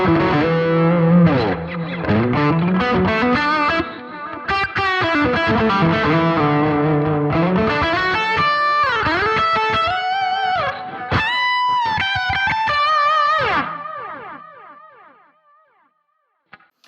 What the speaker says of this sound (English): next patch is the lead patch